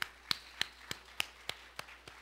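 Church congregation at a Korean festival worship service clapping in unison to give glory to God, eight slow, evenly spaced sharp claps, moderately faint in a quiet room.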